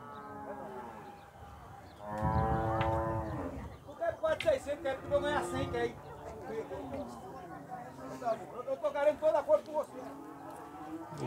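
Cattle moo repeatedly at a busy livestock fair in Campina Grande, Brazil, with calves and cows calling in drawn-out bellows amid the chatter of people talking nearby.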